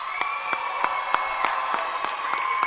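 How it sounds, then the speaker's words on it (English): A crowd applauds at a youth poetry slam in Seattle: steady, distant clapping with a few sharper claps standing out at a regular pace, fairly soft and continuous. "Everybody, please give a round of applause for Nicole."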